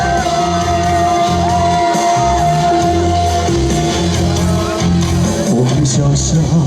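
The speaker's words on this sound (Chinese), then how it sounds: "再一次你们的尖叫声在哪里呢？" A large outdoor crowd screams and cheers continuously at a temple festival concert in Pingtung, loud and sustained, with music and a voice on a PA running beneath the noise.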